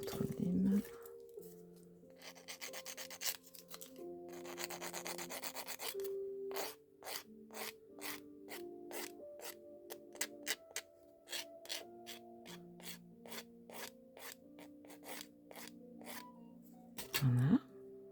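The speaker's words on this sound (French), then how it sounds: "Je vais limer son bout. Je vais prendre l'autre lime." A nail file rasping on the tip of a nail during a nail art session, repeated short scraping strokes in a steady rhythm, close and fairly quiet over soft background music.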